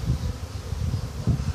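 A low, dense buzzing of many honey bees in a fresh nest, fluctuating slightly, close by and steady throughout.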